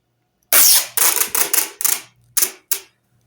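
Tape pulled off a roll in several loud, sharp tearing bursts, then pressed along the full length of a foam delta wing on a 560mm wingspan model plane, the strips separated by short pauses.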